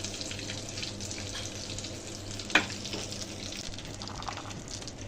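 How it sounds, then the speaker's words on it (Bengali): Chopped garlic and ginger sizzle in hot oil for a pickle, a steady moderate frying hiss with a single sharp clink partway through. "আমি আগে থেকে কেটে রাখা রসুন ও আদা দিয়ে দেব।"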